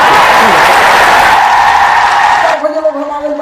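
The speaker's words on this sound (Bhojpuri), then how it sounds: "तो एक बार फिर से जोरदार ताली ठोकी सकल बलमुआ दिया।" Loud, dense audience applause for a Bhojpuri folk singer on a TV comedy show stage, sustained and cheering for about two and a half seconds before breaking off into quieter voices and music.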